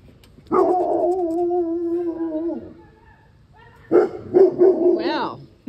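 A dog barks and howls loudly outdoors, one long drawn-out howl followed after a pause by a string of sharp barks.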